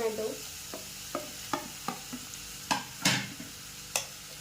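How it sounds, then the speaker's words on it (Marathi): Vegetables are sautéed in a pan while a spatula scrapes and taps in quick, uneven strokes, about ten in all, over a low sizzle close by. "हे आपल्याला एखादं मिनटं असं परतून घ्यायचं आहे"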